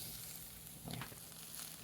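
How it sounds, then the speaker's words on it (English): An egg fries in a pan with a steady, faint sizzle that runs without a break, swelling briefly near the middle and again toward the end. "we're gonna wait until the egg is done sizzling"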